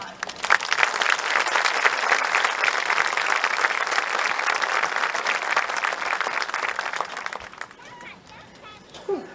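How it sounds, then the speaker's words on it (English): A high school commencement audience breaks into loud, dense applause that holds strong for most of the clip before thinning out near the end, with some voices mixed into the crowd. "A round of applause."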